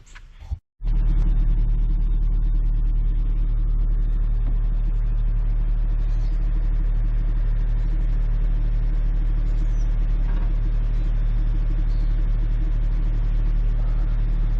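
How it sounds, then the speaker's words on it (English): A Jeep engine rumbles loud and steady up close while dragging a stuck truck out of sand, a constant low drone with wind-like noise throughout, after a brief bump at the start. "Me fixing to use the Jeep and me fixing to drag it out."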